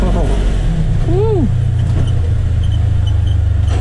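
A Polaris Ranger XP1000 UTV engine revs, with a rising and falling whine over a loud, steady low drone, heard close up while people talk briefly.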